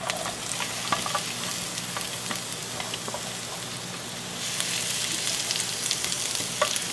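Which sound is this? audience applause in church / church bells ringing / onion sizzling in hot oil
onion sizzling in hot oil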